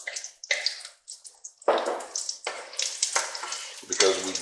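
Garlic sizzling as it slowly toasts in a pan for pomodoro sauce, giving bursts of soft crackling and hissing that swell and fade close by.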